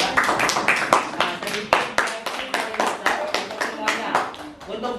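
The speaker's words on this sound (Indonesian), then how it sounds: "Tepuk tangan dulu untuk kelompok 4." Students in an Indonesian Islamic studies classroom clap for a presenting group, a brisk, uneven run of sharp hand claps for about five seconds, fairly close, with some chatter underneath.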